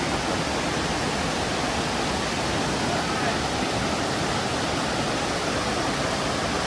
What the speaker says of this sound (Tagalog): Ito yung sa waterfalls nila dito.